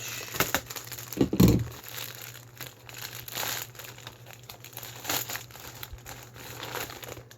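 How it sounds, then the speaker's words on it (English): A knife cuts open a plastic toy soldier package, giving faint crinkling and crunching plastic with one louder crushing burst early on, followed by quieter rustles. "I'm gonna grab my trusty knife here, and we're just gonna cut open the package"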